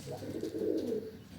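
Young pigeons kept for sale coo once in a soft, close, throaty roll that swells and fades over about a second. No one speaks.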